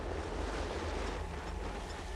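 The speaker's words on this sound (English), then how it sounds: "Facing high waves and strong winds, Captain Peter refuses to head out on the water." Strong wind and heavy surf on the Nile during bad weather, a steady rough roar of wind buffeting the microphone over churning water, constant and close with no voices.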